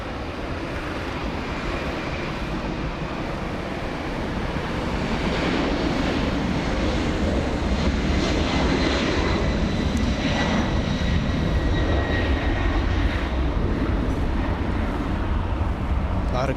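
A Delta heavy jet airliner departs Los Angeles International Airport, its engines building into a loud, sustained broadband roar that swells and holds steady throughout.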